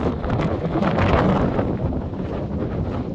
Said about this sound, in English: It's about 40 degrees, 25-mile-an-hour winds.